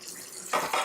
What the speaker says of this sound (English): we put them under cold running water